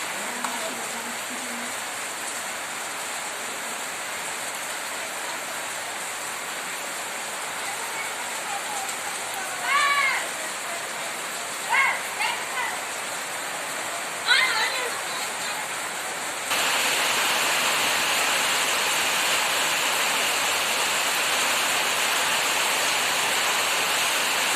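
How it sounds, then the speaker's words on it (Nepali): Steady, heavy rain roars as a constant broadband wash, growing louder partway through, with a few brief distant voice-like calls in between. "पानी एकदमै जोरसोरसँगले परिरहेको छ।"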